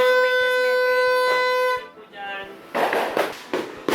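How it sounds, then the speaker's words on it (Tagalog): A neighbor's firecrackers go off outdoors, a burst of loud, rapid crackling pops filling the final seconds after a steady tonal sound fades. "Grabe yung paputok ng kapitbahay mo. Lakas!"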